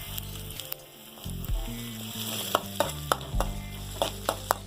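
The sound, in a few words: stirring sizzling masala with curry leaves for fish curry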